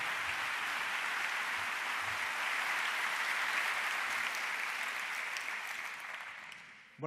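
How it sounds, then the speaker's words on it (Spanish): An audience applauds at a Naukas 2017 science talk in Spain, a dense sustained roar of clapping from a large crowd that holds steady for several seconds and then tapers off. "Así que un fuerte aplauso"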